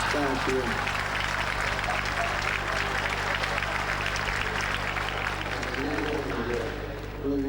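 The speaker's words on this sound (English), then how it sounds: "I have nothing against applause, because when you applaud, the Pope can rest a bit." A large open-air crowd at a papal Mass in Plaza de la Revolución applauds steadily in a strong wind, a broad sustained roar of clapping with voices mixed in and a low rumble of wind underneath.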